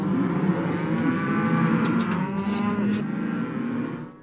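Cattle and calves low and moo continuously during a Montana spring roundup, a loud, dense herd chorus with overlapping calls throughout and no talk.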